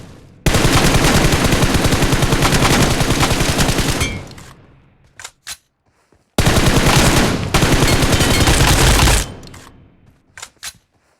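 Two long bursts of rapid automatic gunfire in the BGMI mobile shooter game, loud and close, each tapering off and followed by a few sharp single shots in near silence.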